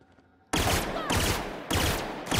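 Bursts of automatic gunfire from a gun in the video game The Outer Worlds, three loud sustained volleys in a row after a quiet start, close and dense.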